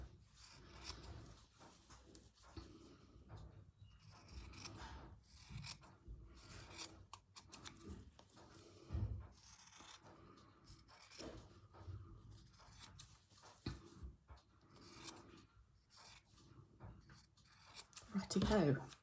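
Scissors snip and rasp through fabric for a stitched collage, quiet intermittent cutting strokes close by, mixed with rustling handling and a person talking.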